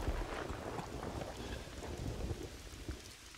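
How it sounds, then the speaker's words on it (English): Heavy rain pours in the hunting video game theHunter: Call of the Wild, set in Mississippi, with deep rolling thunder rumbling loudly beneath the dense, constant downpour. "That should get the award for best thunder used in a video game for all time."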